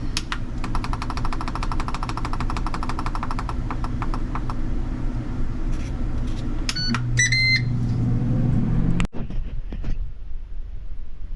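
A countertop air fryer fitted with a silicone liner runs with a steady, even hum and fan whir, broken by a few short electronic beeps before the drone cuts off abruptly near the end.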